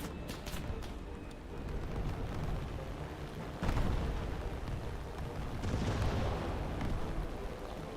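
Bombs dropped in a naval video game boom and rumble in a dense, continuous barrage of explosions, with a sharper blast partway through and heavy low-end roar throughout.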